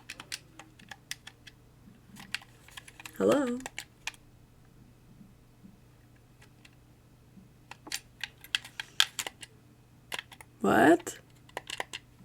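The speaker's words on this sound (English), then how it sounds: "Can you hear me clicking the button?" Computer keys and mouse buttons are clicked in quick irregular bursts, crisp and close by, with a voice briefly speaking in between.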